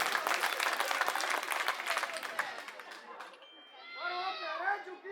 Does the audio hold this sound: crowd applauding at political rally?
yes